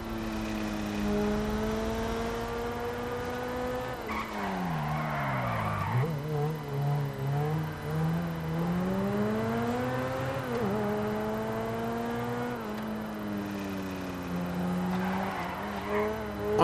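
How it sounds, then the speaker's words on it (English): Loud, close tire squeal from a car sliding through corners in GTA Online, with the engine whining up and down in pitch as it drifts, skidding in repeated long sweeps. "this car's got the ultimate drifting camber"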